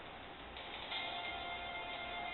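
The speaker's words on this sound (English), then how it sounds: "And then the heal bell comes down like," Heal Bell move from a fifth-generation Pokemon battle game: bright, ringing bell chimes that swell and shimmer over a steady, muffled game-audio background, with no talking.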